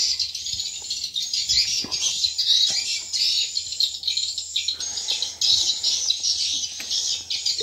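A swiftlet lure call plays from a tweeter speaker at a swiftlet house: a continuous, high-pitched warbling of repeated chirps and trills, loud and steady, with faint thumps and background noise beneath.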